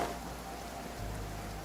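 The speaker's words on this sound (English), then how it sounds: "Guys, it's always raining here." Steady rain falling in a video game, a soft, even hiss of drops with no voices.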